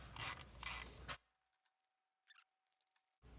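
A T30 bit turns a plastic valve cover screw on a BMW N20 engine, two quick loud ratcheting bursts close up, then near silence with a few faint clicks.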